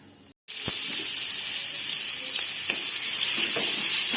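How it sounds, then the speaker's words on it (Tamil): Steady, loud sizzling of onions frying in hot oil with popped mustard seeds after a brief silence, with a few faint clinks of a spoon stirring the pan. "கடுகு பொரிஞ்சு வச்சுட்டு வெங்காயம் போட்டுக்கலாம்."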